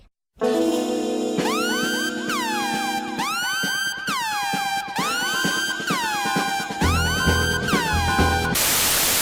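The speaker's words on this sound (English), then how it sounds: "that is from the Kill Bill soundtrack, and it's called the Ironside Siren" The Ironside siren theme from the Kill Bill soundtrack plays loud and continuous, its repeated rising-and-falling siren wails sweeping over a steady brass and rhythm backing, ending in a burst of hiss.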